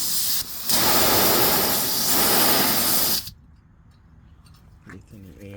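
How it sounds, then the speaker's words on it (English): A loud steady hiss of compressed air blowing out through the drain valve of an air horn tank on a 2021 Toyota Tacoma, lasting about three seconds before it cuts off abruptly, followed by quieter background and a brief voice. "Releasing the air."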